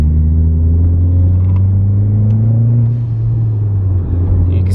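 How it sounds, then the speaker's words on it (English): A Mitsubishi Evo with a GFB blow-off valve cruises in third gear with the windows up, giving a steady, loud engine drone that sags slightly partway through, with faint brief hiss bursts above it. "I always thought I had to have the intake to get the noise, but this blow-off valve definitely proved me wrong"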